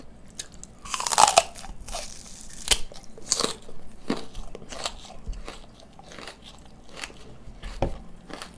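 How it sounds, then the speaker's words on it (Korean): Raw green onion gives a loud, crisp bite near the start, then steady, close-up crunchy chewing with irregular snaps and crackles that continue through the rest. No voices are heard. "파도 한입 먹어보겠습니다."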